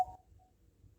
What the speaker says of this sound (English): Oh, that's a text message.